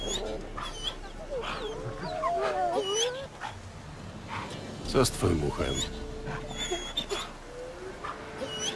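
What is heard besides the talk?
dogs fighting in video game The Witcher 3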